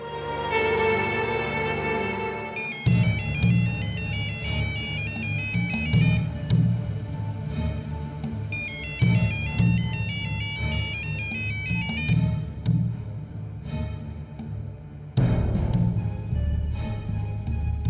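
A mobile phone ringtone in a Marathi television serial, a repeating electronic melody in looping phrases over a steady background bed, clear and moderately loud with no talking.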